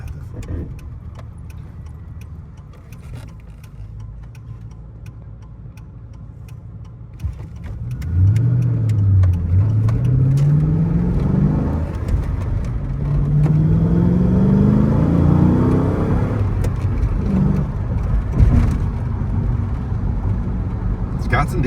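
A Roush-built Ford Crown Victoria with a full interior and roll cage idles, then revs up in several rising, falling sweeps, loud and close, while people talk over it.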